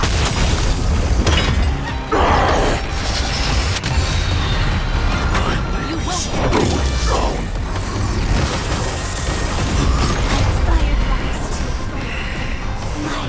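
A booming detonation blast in the Honkai: Star Rail video game: a loud, dense wall of explosive rumble and crackling debris sustained throughout, with brief bursts standing out amid the continuous roar.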